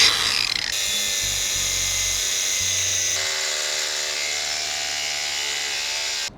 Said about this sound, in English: Let's give that some punishment with the angle grinder.